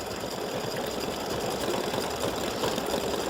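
An embroidery sewing machine stitching a freestanding lace piece runs steadily at close range, giving a dense, even mechanical whir with a rapid needle chatter and no talking.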